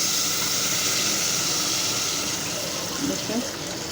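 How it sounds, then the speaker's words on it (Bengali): Cooking water from boiled dal is poured into a pan, a loud, steady gushing and splashing of liquid close up that tapers slightly toward the end. "ডাল সিদ্ধ করলাম যে পানিগুলো, ওইখান থেকে একটু পানি দিব।"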